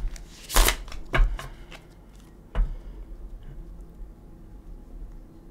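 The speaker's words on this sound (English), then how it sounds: "Give it one more shuffle." Tarot cards are shuffled in a few quick riffling bursts, close and crisp, separated by quiet pauses.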